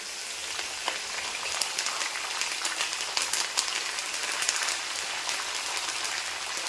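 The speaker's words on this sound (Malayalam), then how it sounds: "നമുക്കിതിലേക്ക് ആവശ്യത്തിന് കറിവേപ്പില ഇട്ട് കൊടുക്കാം." Curry leaves hitting hot oil with mustard seeds for a chicken curry, a busy sizzle peppered with sharp crackles and spitting pops throughout, no voices.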